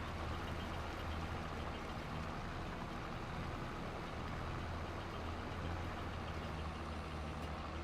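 Farm tractor engine running at a steady low idle, a faint continuous rumble with no change in pace and no voices.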